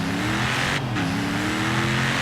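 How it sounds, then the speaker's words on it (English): A turbocharged Ford Raptor truck in Forza Horizon 3 accelerating on the road, its engine a steady loud roar that climbs in pitch, with a brief break like a gear shift partway through. "So let's do a quick acceleration to see what this truck is capable of on the road."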